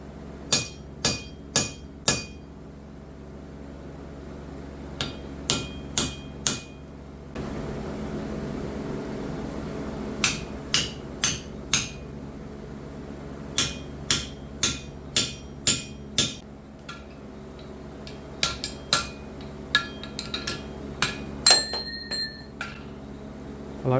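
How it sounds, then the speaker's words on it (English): Blacksmith's hammer drives steel punches through hot steel to make holes while forging a rushlight; sharp ringing metallic blows come in quick bursts of three to five strikes, close and loud, separated by pauses with a low hum beneath. "I like punching the holes rather than drilling them because you sort of push the material to one side rather than drilling it out."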